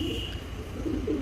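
A pigeon coos low and soft on a pigeon farm, a brief rolling call close by against a steady background hum.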